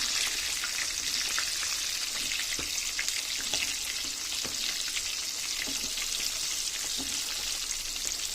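Rava-coated mackerel (bangada) frying Mangalore style in hot oil, giving a steady, dense sizzle with scattered crackles and pops throughout, close and continuous with no voices.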